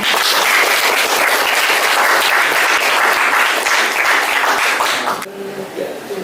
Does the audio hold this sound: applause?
yes